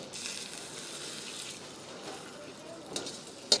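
Egg rice sizzles steadily in a hot pan as it is stirred, a continuous close frying hiss with a couple of brief scrapes and clinks of the utensil near the end.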